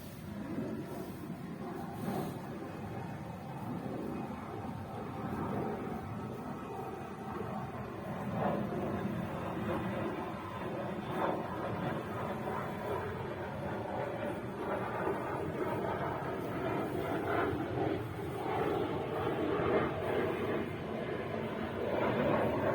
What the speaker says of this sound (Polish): Teraz to samolot.